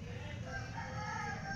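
A rooster crowing in the distance, a faint drawn-out call heard over a low background hum.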